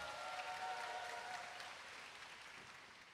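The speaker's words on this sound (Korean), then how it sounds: "우리 여원이한테 큰 박수로 강의를 듣도록 하겠습니다." A congregation at a summer church gathering gives a round of applause, a faint, steady wash of clapping that fades slightly over three seconds with no voices.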